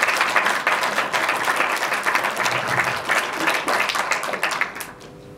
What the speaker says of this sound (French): Je vous invite donc à l'applaudir pour le remercier d'être présent.